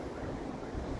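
Cold wind blows hard across the microphone at a high mountain roadside in North Sikkim near Lachen, giving a constant rough, buffeting rumble with no voices.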